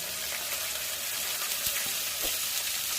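Curry leaves, garlic and onion sauté in oil, giving a steady close hiss of frying with a couple of faint knocks from stirring and no voices.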